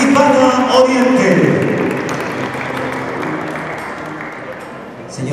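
Audience applause at a neighborhood leaders' dinner, a dense broadband patter that starts loud and slowly fades over several seconds, with a voice speaking over it near the start.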